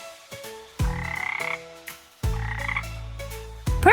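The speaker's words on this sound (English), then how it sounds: "I see a green frog looking at me." A green frog croaks in two loud, rattling bursts against a bright musical backing, as in a children's sing-along.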